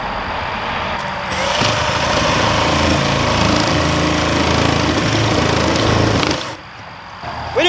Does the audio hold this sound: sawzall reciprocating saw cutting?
yes